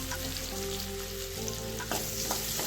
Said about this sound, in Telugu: ఇలా ఫ్రై చేసుకోండి ఒక రెండు నిమిషాలు ఇలా ఫ్రై ఫ్రై చేసుకోండి